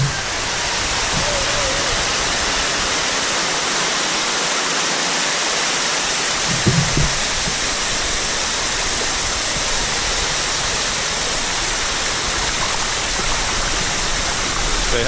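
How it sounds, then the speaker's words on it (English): Rushing water from a 600 foot waterfall pours as a loud, continuous roar that fills the whole clip, with climbers' voices faintly under the noise. "we're climbing the waterfall right now"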